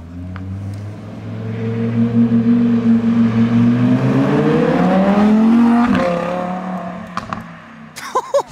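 An Audi R8 V10 fitted with an Akrapovic exhaust revs hard nearby, its engine note climbing steadily in pitch to a peak before dropping away, followed by a few short blips.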